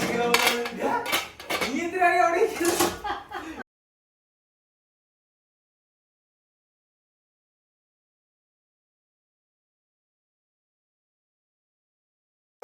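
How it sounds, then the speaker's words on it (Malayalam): A knife chops ginger and garlic in a home kitchen, with a few seconds of quick clattering knocks and clinks close by, then near silence. "ഞാനിപ്പോൾ ഇഞ്ചിയും വെളുത്തുള്ളിയൊക്കെ അരിഞ്ഞെടുക്കുന്നുണ്ട്"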